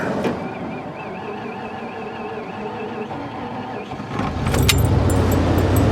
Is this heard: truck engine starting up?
yes